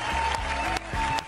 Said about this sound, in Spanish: a quien vamos a aplaudir